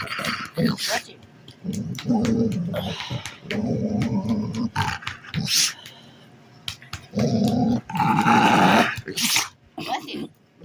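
A pitbull-rottweiler mix dog makes a low, rumbling purr-like growl in long repeated stretches, close and fairly loud, with people talking over it.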